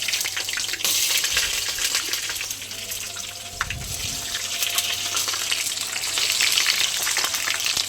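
Butter sizzles and crackles in hot oil in a ladle, a dense, steady frying hiss throughout with a brief low bump partway through.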